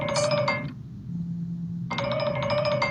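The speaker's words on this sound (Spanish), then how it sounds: "si me disculpan que voy a cortar el teléfono" A phone ringtone plays a repeating electronic melody in two bursts separated by a short pause with a low hum, clear and close with no talking.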